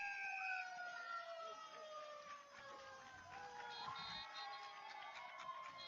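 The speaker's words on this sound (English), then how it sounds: "there's the siren" A long, steady siren wails at the end of a country football match, over distant crowd noise, sustained and fairly faint throughout.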